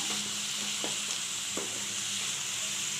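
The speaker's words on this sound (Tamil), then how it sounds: "காயெலாம் கொஞ்சம் நல்லா வதங்கட்டுங்க" Mixed vegetables sautéing in a pan for momo filling, a faint, even hiss of frying with a few soft, widely spaced stirring scrapes.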